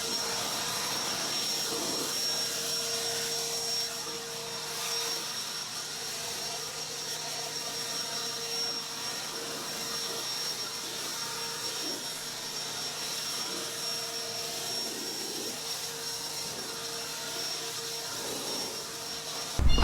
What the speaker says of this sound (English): So the best way to do this is to use a blower.